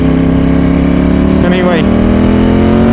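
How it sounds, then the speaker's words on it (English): A Ducati 916 motorcycle engine roars loud and close at high revs, holding a steady buzzing drone with a brief wavering stutter in the middle as it bounces off the rev limiter. "We hit the rev limiter then."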